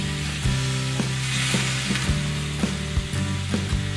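Browned wild turkey legs sizzle steadily in hot fat while being moved into a crock pot, with sharp clattering knocks from utensils and pieces being handled at a close, busy, irregular pace.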